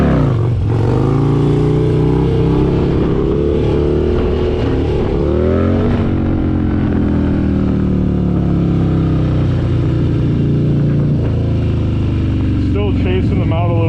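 Harley-Davidson Road Glide motorcycle revving hard during sit-down and stand-up wheelies, a loud, close engine roar climbing and falling in pitch through repeated throttle surges, with talking over it.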